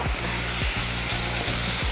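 About a cup of moong dal lentils hits a hot pan and sizzles loudly and steadily, with a dense hiss and a few faint scraping knocks underneath, close by.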